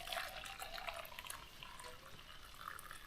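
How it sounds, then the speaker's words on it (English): Hot water poured into a cup at a canoe camp in the Adirondacks to make coffee, giving a steady, fairly quiet splashing trickle that runs unbroken for about three seconds with no talking. "So you literally just pour the hot water"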